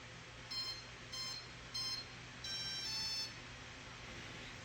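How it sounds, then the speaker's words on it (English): A 4-foot great white RC shark toy sounds its power-up confirmation: four short, high electronic beeps, the last one longer, over a steady low background hum, fairly quiet and close. "You're going to listen for the power up confirmation beeps."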